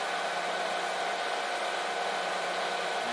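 Milling machine spindle turning an edge finder at 350 RPM over 303 stainless steel, a steady close motor whine and hum with no talk.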